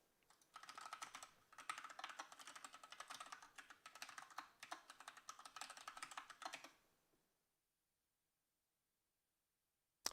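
Fingers type quickly on a computer keyboard at a login screen, a dense run of close key clicks lasting several seconds before stopping abruptly into silence.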